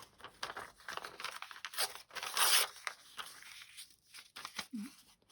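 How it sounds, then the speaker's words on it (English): Papers and craft materials are shuffled across a desk during junk-journal making, with close rustling, crinkling and tearing-like swishes in uneven bursts and brief pauses. "shuffling through the papers that I've got here on my desk"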